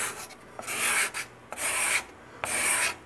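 A burred steel scraper shaves wood on the arched top of an archtop guitar in three firm, rasping strokes, each with a short pause between and a slight click as the blade sets down.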